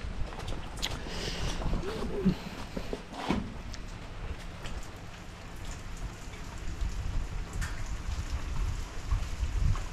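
Steady rain patters directly onto a camera outdoors during days of continuous downpour, a dense close hiss with occasional heavier drops and thumps, no talking.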